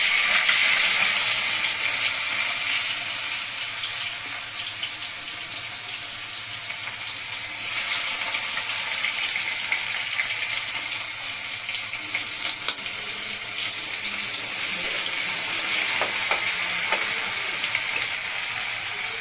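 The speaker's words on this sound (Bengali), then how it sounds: "কড়াইতে আমি পেঁয়াজ কুচিটা দিচ্ছি।" Chopped onion sizzles in a wok with a continuous hiss, swelling louder in waves, with faint stirring noises and no talking, while cooking pabda fish curry.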